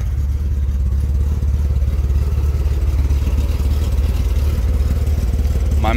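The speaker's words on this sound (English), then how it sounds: "my muffler has been rattling itself loose because I've been neglecting to put an exhaust hanger on." Chevrolet Corvair idling with a loose exhaust muffler missing its hanger, giving a steady low rumble with faint metallic clatter, close and alone.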